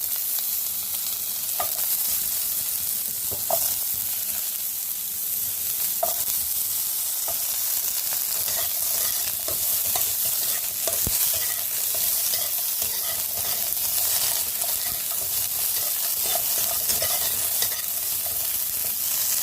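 Chopped chayote squash with cumin sizzles steadily in a hot pan for a potato chayote curry. Scraping stirs and small pops break through the frying at intervals, with no talk.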